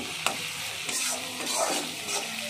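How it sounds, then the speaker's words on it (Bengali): Onion hits hot oil in a pan and fries with a loud, close, continuous sizzle, stirred with a few scraping strokes and no voices. "দেখেন আমি এই যে তেলের ভিতরে পেঁয়াজটা দিয়ে দিছি"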